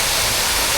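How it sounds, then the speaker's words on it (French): A waterfall cascade in the Dordogne roars as a dense, steady wash of broadband water noise, loud and close, with no voices over it. "Cascade comme ça, à se mettre dessous et tu filmes."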